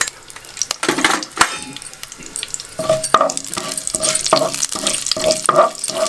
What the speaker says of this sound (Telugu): సో ఇప్పుడు జీలకర్ర ఆవాలు మినపగుడ్లు వేసుకుంటాను